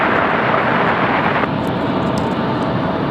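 Touching down from Newark, a United Boeing 737 gives a loud, close, broadband rush of jet and wind noise that eases slightly midway, with a few faint clicks.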